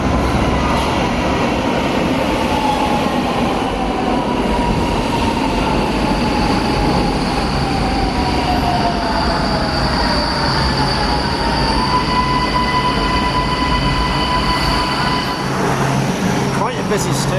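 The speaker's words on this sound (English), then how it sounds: "Quite a busy station." Metro trains run through a busy station, with a continuous loud rumble of wheels on rails and long high metallic squeals rising and fading over the steady roar.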